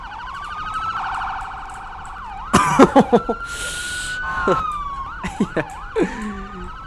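Police motorcade sirens in the Roblox game Emergency Response Liberty County wail steadily and loudly, with overlapping siren tones and short yelps, under brief bits of speech.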